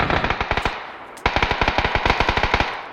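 Automatic gunfire in the battle-royale game PUBG on the Erangel map, with two loud bursts of rapid, evenly spaced shots separated by a short pause, heard clearly with no talking over them.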